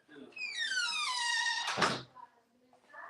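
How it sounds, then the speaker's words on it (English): A squeaky door at a Walmart store lets out a long, loud, falling squeal, followed by a heavy thunk as it closes. Quieter sounds follow. "Squeaky doors."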